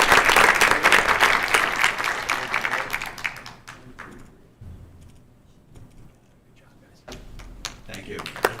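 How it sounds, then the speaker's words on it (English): Audience applause at a school board meeting, a burst of close, crisp clapping that thins out and fades, then a few scattered claps return near the end. "so why don't we give them a round of applause."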